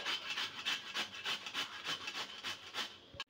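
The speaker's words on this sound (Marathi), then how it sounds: "आता ही काकडी मी किसून घेणार आहे." Paan kakdi, a water cucumber, being grated by hand on a kitchen grater for thalipeeth: a steady series of about a dozen close, even rasping strokes, with no one talking.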